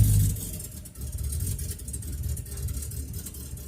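A long-neglected Ford Fairlane rescued from a scrapyard pulls away on its first drive along a rough road, its engine rumbling up close with a heavy low surge at the start, then settling into a steady uneven drone.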